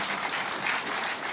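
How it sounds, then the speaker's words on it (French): Audience at a launch event applauding, a dense continuous wash of clapping, steady and fairly loud throughout the short stretch. "vous pouvez effectivement applaudir"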